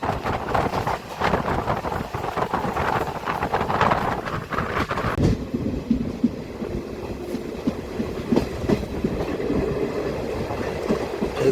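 A DEMU local train on the Kacheguda to Karimnagar run rumbles and clatters continuously from on board, with wind buffeting the microphone; the texture shifts partway through as the running noise changes.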